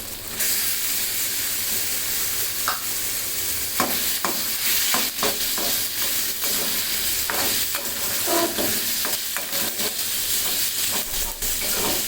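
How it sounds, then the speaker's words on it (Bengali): Cubed chicken frying in a pan with ginger, garlic and onions: a loud, continuous sizzle runs throughout, punctuated by repeated close scrapes and clicks of a stirring utensil. "এটা এখন আদা রসুনের সাথে ভালো মতো মিশিয়ে একটু ভেজে নেব"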